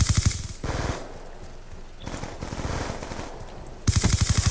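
Rapid automatic gunfire from a first-person shooter game, loud bursts of tightly spaced shots opening and closing the stretch, with a quieter run of shots and game sounds in between.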